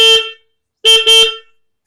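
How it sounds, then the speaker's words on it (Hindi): Two-tone electric horn newly fitted to a Hero Splendor Pro motorbike honks close and loud: one short blast, a pause, then two quick blasts in a row, with no talk over it. "हमारा हॉर्न बिल्कुल सही है"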